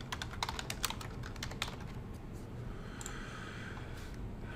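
Rapid keystrokes on a computer keyboard while renaming a sketch in CAD software, a dense burst of clicks in the first two seconds, then sparse taps over steady background hiss.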